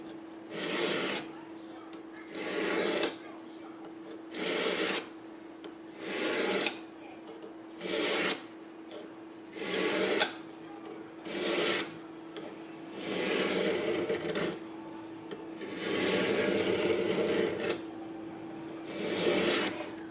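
Repeated rasping strokes of a blade drawn across a diamond sharpening stone, about ten strokes in a steady back-and-forth rhythm, close and fairly loud.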